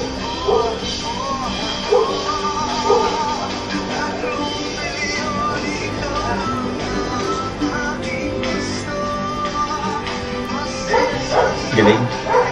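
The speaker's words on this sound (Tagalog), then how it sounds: "pasensya na guys kung meron kayong naririnig na tumatawa ng aso" A dog barks, yips and whimpers repeatedly throughout, fairly close, mixed under people talking.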